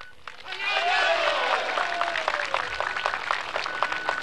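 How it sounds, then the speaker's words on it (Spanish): A rally crowd in Toledo applauds for President Evo Morales, many hands clapping steadily and loudly, with raised voices and cheering mixed into the din. "pido un fuerte voto de aplausos"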